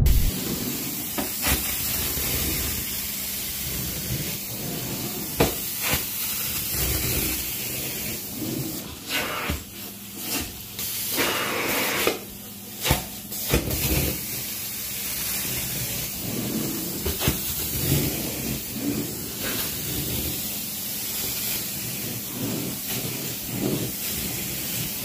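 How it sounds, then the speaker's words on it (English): Hissing steam from a carpet cleaning machine working on a dirty carpet, a loud continuous broadband hiss with surges and brief bursts, close and steady throughout. "All that steam"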